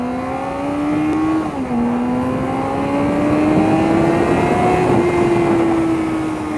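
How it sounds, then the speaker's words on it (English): The exhaust of a 2016 Honda CBR600RR sport motorcycle drones loud and close. The engine pitch climbs steadily as it accelerates through a couple of gear changes, with no talking. "2016 CBR600RR with an absolutely gorgeous exhaust"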